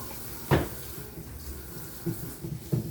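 Kitchen tap running into a sink while dishes are washed, glass bowls and stainless steel among them, a steady moderate water hiss with a few sharper splashes and knocks breaking through, no talking.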